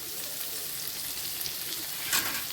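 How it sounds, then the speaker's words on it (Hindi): Khichdi ingredients fry in a kadhai with a steady, soft sizzling hiss throughout, rising briefly near the end as if stirred. "अब इसको अच्छे से फ्राई कर लो"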